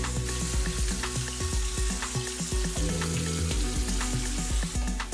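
Rinsed leeks sauté in a soup pot for Haitian squash soup, producing a loud, continuous close-up sizzle with crackling pops and occasional stirring clatter.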